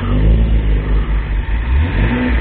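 Alfa Romeo cars leave a car show, an engine revving loud and close with a deep, steady roar and a brief dip in the middle.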